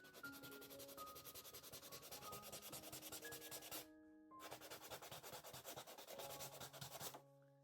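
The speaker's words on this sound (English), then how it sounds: "I'm going to carefully sand the edges" Fine 180-grit sandpaper rubs along the edges of a wooden horn book in quick, even back-and-forth strokes, faint and close, with a brief pause midway.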